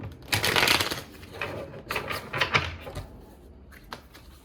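A deck of cards is shuffled in quick riffling bursts, a few rapid flurries of papery flicking followed by softer taps, close by.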